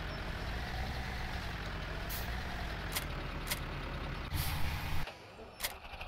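A tractor engine in Farming Simulator 17 idles as a steady low diesel rumble, faint and even, with a few short hissing bursts before it cuts off abruptly near the end.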